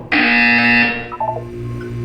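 A Portal 2 test-chamber buzzer sounds once, a loud sustained electronic tone lasting just under a second, followed by a few faint chiming blips.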